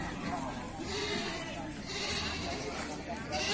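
Male goats bleat at a busy livestock market, faint and spread out against a dense background of crowd chatter and people talking.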